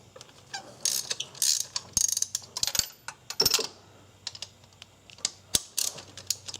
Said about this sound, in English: just breaking these spark plugs loose now